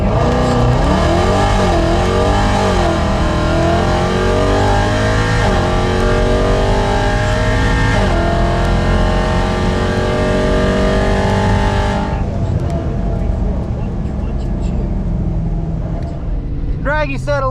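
A ProCharged 5.7 Hemi car accelerates hard down a drag strip, the loud engine climbing through rising shift sweeps for about twelve seconds before dropping away as it passes, leaving distant roar and a brief whine.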